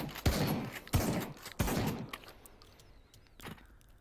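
A tube-fed shotgun in Pavlov VR booms three times in quick, evenly spaced succession, followed by a fainter fourth shot after a pause, each blast sharp and close with no talking.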